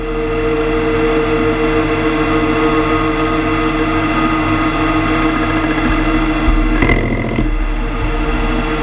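A metal lathe turning a rigidly clamped workpiece gives a loud, steady machine hum with sustained whining tones, then a short harsher burst of cutting noise near the end.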